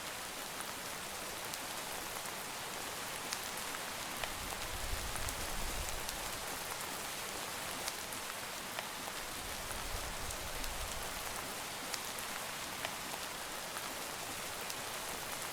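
Steady rain in Minecraft, a continuous even hiss of falling drops with a low rumble swelling briefly twice, moderately quiet and unbroken throughout with no voices.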